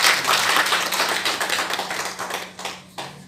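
Applause at a district revenue employees' awards ceremony in Rajsamand: a crowd claps densely and loudly, then the clapping thins into scattered individual claps as it fades out near the end.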